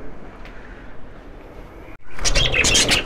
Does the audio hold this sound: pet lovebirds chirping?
yes